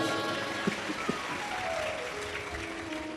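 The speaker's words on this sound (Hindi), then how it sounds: "एक बार जोरदार ताली बजाओ" An audience at a Shiv Mahapuran religious discourse in Bhusawal claps together, a fairly even spread of hand claps at moderate level with a couple of sharper single claps standing out early on.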